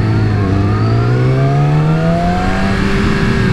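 A 2017 Yamaha R6 sport motorcycle accelerates hard, its loud, close engine note climbing steadily in pitch through the revs without a break and with no talk.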